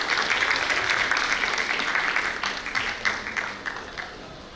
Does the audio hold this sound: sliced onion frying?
no